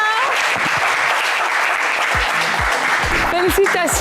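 A game show studio audience applauding a winner, dense steady clapping that fills the whole stretch, with voices talking and calling out over it toward the end.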